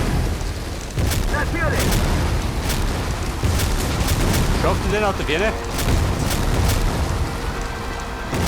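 Booming bomb blasts and artillery-like explosions in the World War II strategy game War Front: Turning Point, during the liberation of London, rumbling loudly and steadily beneath German speech, with sharp cracks scattered throughout.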